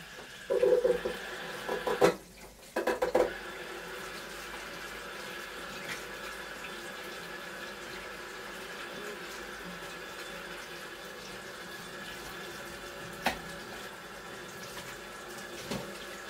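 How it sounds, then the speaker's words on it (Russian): Steady running tap water fills a pot holding potatoes, a continuous mid-level hiss with a few brief clatters near the start and no talking. "картофель сейчас просто помою и залью водой"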